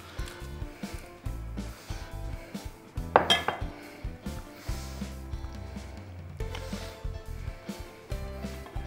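A spoon stirs a monkfish terrine mixture in a bowl, with repeated close scraping and clinking of utensil against the dish in uneven strokes and one louder clatter partway through.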